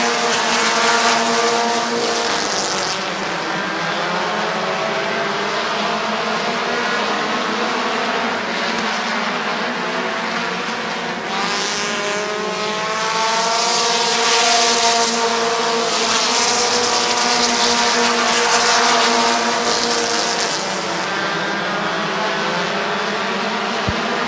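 Race cars racing at Midvale Speedway during a fall classic event, loud buzzing engines with rising and falling pitch as several cars pass close by, sustained throughout with no talk.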